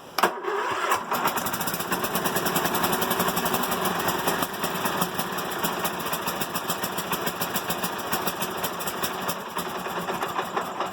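A small Westwood 11 hp ride-on mower engine starts with a brief cough, then idles steadily and loudly up close, a constant mechanical rattle throughout.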